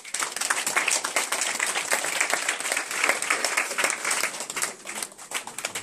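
A church congregation applauds during a prophet's service, dense sustained clapping from many hands that swells and eases over several seconds, fairly close and loud.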